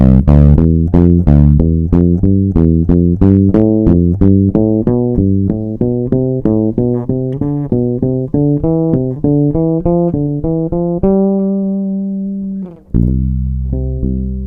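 A bass guitar plays a steady run of plucked notes in groups of four, climbing and descending through a major scale, clear and close with each note ringing briefly.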